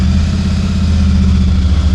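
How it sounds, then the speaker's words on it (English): A Royal Enfield Super Meteor 650 with its stock exhaust and a DNA high-performance air filter idles steadily, a loud, low, even engine rumble recorded close to the exhaust outlet. "this is the sound at the exhaust with the stock system and the DNA air filter"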